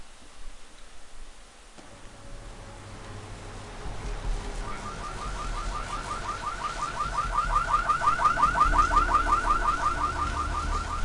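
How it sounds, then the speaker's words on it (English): A car alarm in Vampire: The Masquerade - Bloodlines starts a few seconds in and grows louder, with a rapid repeating warbling whoop cycling steadily over a low background rumble. "Someone should turn off that alarm. It's pretty loud."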